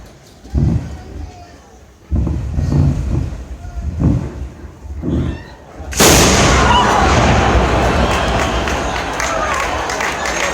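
Small arms fire aimed at composition C4 explosive during a Ranger graduation demonstration at Fort Benning: after a voice speaking in bursts, a loud, sustained crackle of gunfire erupts and continues steadily for about four seconds.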